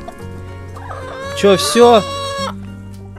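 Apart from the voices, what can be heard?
chicken clucking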